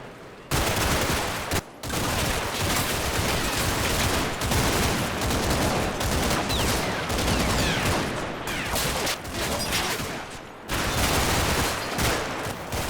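A sustained firefight between platoons and German positions in the Combat Mission: Red Thunder wargame, with dense, continuous machine-gun and rifle fire crackling loudly for the whole stretch and only brief gaps in the shooting.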